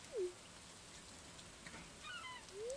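Steady soft rain falls in the farming video game Stardew Valley, a quiet continuous patter with a few faint game chimes and tones drifting over it.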